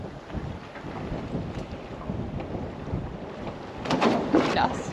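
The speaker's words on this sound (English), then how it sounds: "There's waves breaking just here." Waves breaking close by on the shore near a small boat on the east coast, a steady wash of wind-blown surf with a louder crash of spray toward the end, no voices.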